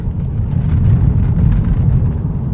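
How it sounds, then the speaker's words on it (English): Big tractor-trailer truck passing on a bumpy road, heard from inside a moving 2008 Mercedes C-Class as a heavy low rumble and roar that swells and fades over a couple of seconds. "Whoa, big scary tractor trailer."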